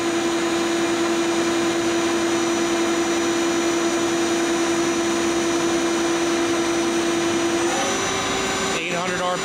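A Lucas 542B-84 five-axis CNC table-type horizontal boring mill spindle runs at 700 RPM. It gives a loud, constant machine whine with a steady tone, which shifts and changes character near the end.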